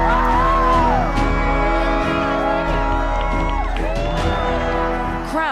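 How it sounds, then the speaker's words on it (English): A crowd in Carbondale, Illinois whoops and cheers during a total solar eclipse, with excited voices rising over a steady outdoor din. "Crowds erupted in Carbondale, Illinois, where the darkness lasted longer than nearally anhere else in the country"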